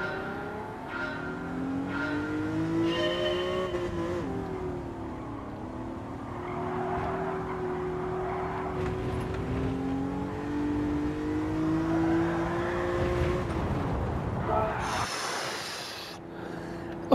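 A race car engine in Gran Turismo 7 rising and falling through the revs as it drives, a loud, close, continuous drone with gear-change dips and a sharp change near the end.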